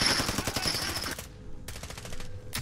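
Rapid automatic gunfire from a video game, loud bursts of fire that break off, then resume in short stuttering volleys, with no voices over it.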